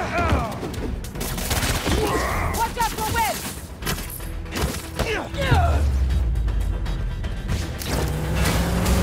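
Turret gunfire in the video game Spider-Man 2, dense rapid bursts and impacts with crashing effects, heard under overlapping voices of characters.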